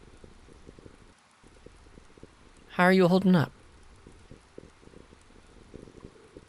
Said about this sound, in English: It's currently raining here.